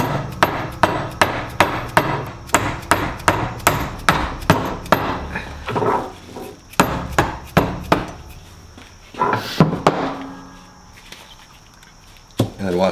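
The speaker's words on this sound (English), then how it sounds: "we'll hammer down to get the center pin out" A hammer strikes a socket to drive the center pin out of a car motor mount with polyurethane bushings, giving a rapid series of sharp, loud metallic blows, then a pause and a few scattered hits.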